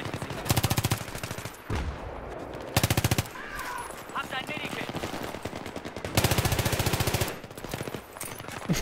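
Automatic weapon fire in Battlefield 3, in long loud bursts of rapid shots separated by brief pauses, with game sounds and someone talking between the bursts.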